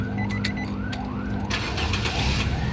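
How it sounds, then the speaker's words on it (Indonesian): Engine of a 2012 Nissan Grand Livina 1.5 SV automatic with about 100,000 km, cranking and catching into a steady idle, with repeated rising starter whines over a loud continuous rumble, close by and alone. "Sekarang kita coba nyalakan mobil ya."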